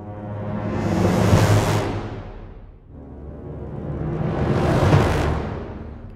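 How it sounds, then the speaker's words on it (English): Orchestral cluster preset from Symphobia 4 Pandora, layering a percussion roll, a cluster crescendo and a cluster hit: two dense swells build over about two seconds each and peak loudly, with no talk. "This is a combination of a percussion roll, a cluster crescendo, and a cluster hit."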